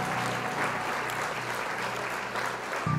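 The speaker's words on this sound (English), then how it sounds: "the entire village behind them began to applaud their new guests" A village crowd claps for arriving guests of honor, dense applause sustained at a steady level throughout.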